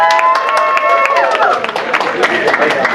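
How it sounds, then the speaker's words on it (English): An audience at a Power Rangers SPD reunion event claps and cheers in a dense, steady round of applause, loud and close, with voices shouting over it. "One more round of applause for them."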